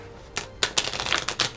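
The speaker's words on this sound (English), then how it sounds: "I'm tired of riffle shuffling these." Riffle shuffles of playing cards, heard as a few short bursts of rapid flutter at close range, with brief gaps between them and no voices.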